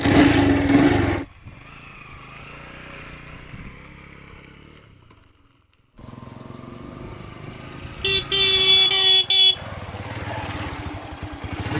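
A car engine starts with a sharp burst, then idles and revs as the vehicle pulls away along a village road, joined by a short run of horn toots near the end; loud and close, with no talking.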